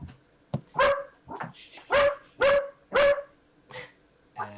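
A dog barks repeatedly, about seven loud sharp barks in an uneven rhythm, close by, with no talking over them.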